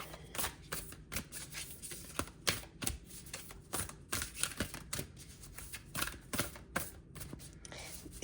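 Tarot cards being shuffled by hand, a steady run of crisp riffling and slapping bursts close up, fairly quiet, with no talking.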